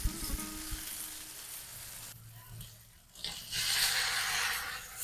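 Peppers and onions for fajitas sizzle in a pan, a broad hissing sizzle that dips partway through and then swells back louder, with some low thumps near the start.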